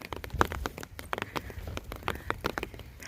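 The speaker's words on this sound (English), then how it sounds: "snowing, a little bit of hailing." Rain mixed with snow and hail falling outdoors on a trail near Silver City, heard as a close, irregular patter of sharp ticks and taps over a soft background hiss.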